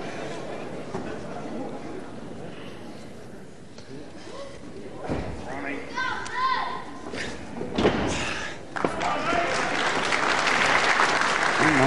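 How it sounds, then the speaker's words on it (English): A packed crowd applauds at a wrestling show in the Lewisham Concert Hall in Catford, moderate applause with chatter, thuds and a commentator talking, swelling louder toward the end. "Nice applause from a packed crowd here at the Lewisham Concert Hall here in Catford"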